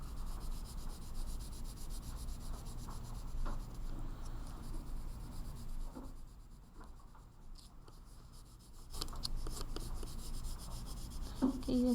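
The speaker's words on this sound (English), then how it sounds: "press a little bit harder on your color pencil" Colored pencil scratching and rubbing across paper while shading an orange and yellow pumpkin drawing, a steady soft scraping with short pauses and firmer strokes, close and quiet.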